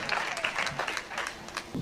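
Brief burst of audience clapping at a stage poetry show, fairly faint and scattered, with a few louder individual claps standing out over a short stretch.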